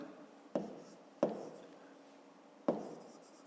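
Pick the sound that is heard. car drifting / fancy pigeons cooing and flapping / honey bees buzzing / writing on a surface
writing on a surface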